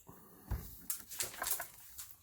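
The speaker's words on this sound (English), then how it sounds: "You hear my little dog?" A small pet dog gives a few short, high whimpers and whines indoors, close by, in brief uneven bursts with faint rustling between them.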